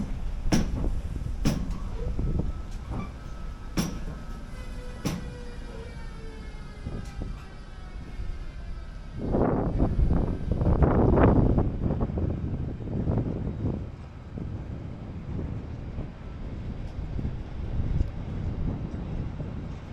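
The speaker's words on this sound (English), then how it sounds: "first our locomotive hauling us to Bratislava is arriving" A Siemens Vectron electric locomotive of the Slovak railways, delivered new in 2017, pulls into a station: scattered clicks and clanks at first, then a loud swelling rumble midway that eases into steady rolling noise, with wind buffeting the microphone throughout.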